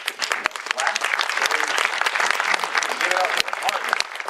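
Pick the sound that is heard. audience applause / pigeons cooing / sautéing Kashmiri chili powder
audience applause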